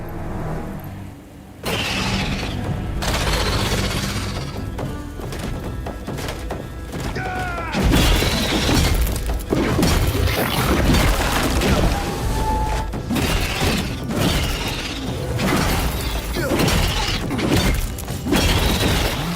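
In the action video game Atlas Fallen, heavy combat blows land with shattering crashes and booming thuds, loud and dense, amid clattering impacts and game effects.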